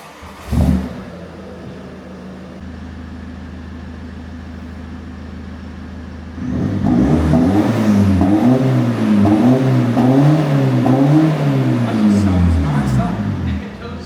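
A diesel Ford Focus ST with its DPF and rear exhaust box removed starts up and idles, then revs repeatedly in rising and falling surges, loud and close, with no voices over it.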